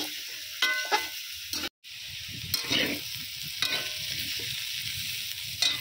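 Mixed vegetables with salt and turmeric powder frying in a pan, a steady sizzle broken by scraping stirs and clanks of a utensil, with a brief dropout midway; no talking.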